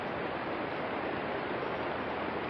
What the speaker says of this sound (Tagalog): Na may ganitong kalawak na Sapa.